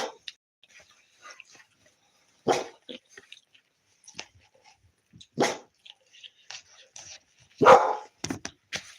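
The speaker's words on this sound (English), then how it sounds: "y'all ain't gonna see what my dog's cutting up about" A dog barks in several loud, separate bursts spread across the clip, with quieter rustling and small noises in between, recorded indoors during a live stream.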